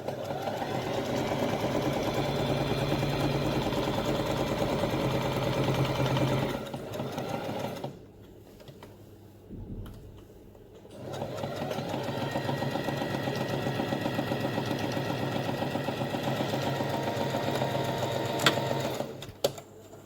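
A sewing machine runs steadily, stitching fabric for a hair scarf accessory, pauses briefly in the middle, then resumes to finish the seam with a backstitch, close and loud throughout.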